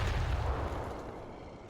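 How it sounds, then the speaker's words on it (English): A heavy rumbling blast from a Stuka dive bomber attack in a war video game, loud and booming at first, then slowly fading into a low roar. "Here comes that Stuka again."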